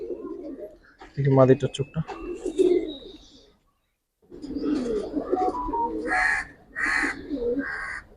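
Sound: pigeons cooing

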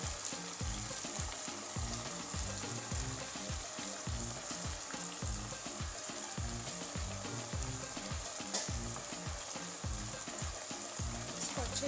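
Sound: mutton frying with garlic and onion

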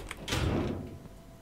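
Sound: door closing in the video game Devour

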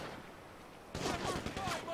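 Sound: gunfire in GTA 5 video game

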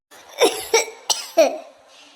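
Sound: coughing of a sick person

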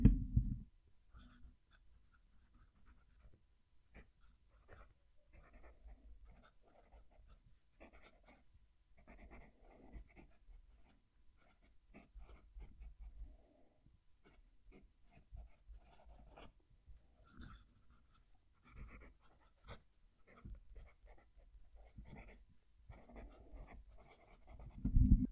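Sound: German broad nib pen writing on paper

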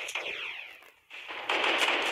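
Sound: automatic gunfire in the video game Fortnite Mobile

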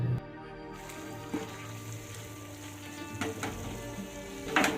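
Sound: masala for dim telani frying and being stirred in pan

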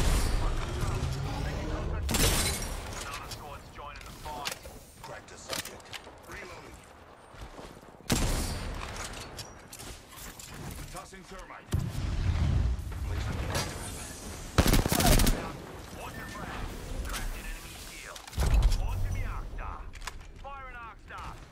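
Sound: gunfire in a video game

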